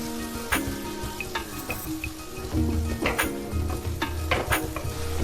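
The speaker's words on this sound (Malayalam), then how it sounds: "3 പച്ചമുളക് നെടുകെ കീറിയത്, ഇത് രണ്ടും ചേർത്ത് നന്നായിട്ടൊന്ന് വഴറ്റിയെടുക്കാം." Chopped onions and slit green chillies sizzle steadily as they sauté in a pan, with occasional clinks and scrapes of a spoon stirring close by.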